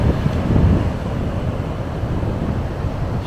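Steady roaring wind on a Gulf of Mexico beach at Destin, Florida buffets the microphone with low rumbling gusts, a dense continuous noise with no voices.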